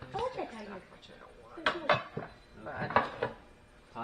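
Pots and pans clatter and clank as they are shifted about inside a cluttered storage locker, a few irregular bursts of metallic knocking mixed with people talking nearby.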